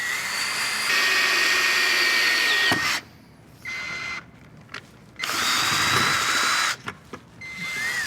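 A power drill whines loudly in several bursts, drilling holes for a door kit on a John Deere tractor cab, starting and stopping repeatedly with brief quiet gaps between, close up and with no talking.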